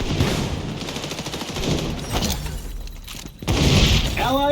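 A fire bomb ability goes off amid XDefiant combat, with loud bursts of gunfire, crackling impacts and a heavy blast that rolls into a sustained roar, all dense and close.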